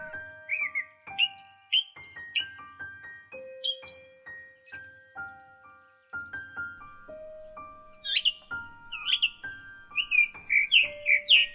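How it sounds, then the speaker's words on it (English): Birds singing in a quiet outdoor setting, a lively mix of chirps, whistled notes and trills that come in bursts, clear and close with near-silent gaps and no talking. "taking in the sounds of birds."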